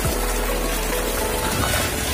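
Water gushing with force to push toy boats in a boat race game, a steady rushing wash that stays loud and continuous throughout.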